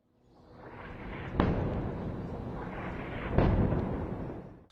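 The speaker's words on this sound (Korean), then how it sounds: "폭발음 소리가 들리더니 건물 사이로 검은 연기가 치솟고 있습니다" An Israeli airstrike explodes in Gaza, recorded as news footage: a distant roaring rumble builds, then two sharp blasts arrive about two seconds apart, each trailing into a long rolling boom, with no talk.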